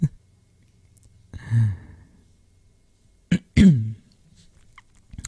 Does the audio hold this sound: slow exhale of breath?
yes